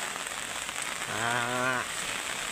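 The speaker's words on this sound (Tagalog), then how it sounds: "malakas pa ang ulan kahit medyo maliwanag na" Heavy rain falls steadily on surfaces during Typhoon Kristine in Masbate, a dense hiss throughout, briefly overlaid by a short tonal sound near the middle.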